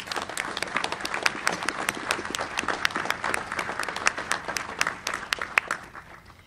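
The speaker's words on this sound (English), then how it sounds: "How about a big round of applause for Jim?" Applause from the audience at a NAVSEA change of command ceremony, many hands clapping in a dense, crisp patter that holds steady for several seconds, no talking.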